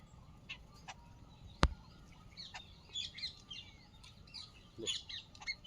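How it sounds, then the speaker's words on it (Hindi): Small sparrow-like birds chirp in scattered, high, faint tweets outdoors, with one sharp click or knock early on and light background noise. "क्योंकि ये चेक चिड़िया है।"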